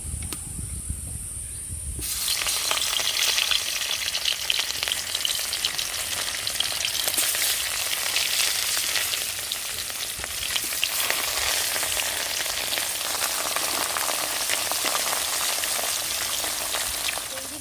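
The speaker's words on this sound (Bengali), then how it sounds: "এবার আমি মাছগুলোকে এক এক করে ভেজে নেব" Loud, continuous sizzling of rohu fish frying in hot mustard oil, a dense crackling hiss that starts abruptly and keeps going without pause.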